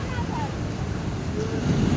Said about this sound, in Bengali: তোমাদের দেখাই সমুদ্রের ঢেউটাকে কীরকম লাগছে দেখো